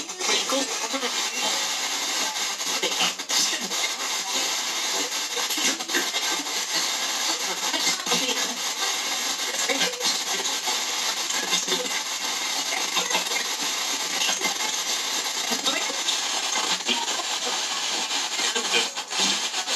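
A dense, continuous wash of harsh static and choppy noise bursts from a DarkStar spirit box radio sweeping at about half speed, loud and unbroken throughout, with no clear voice.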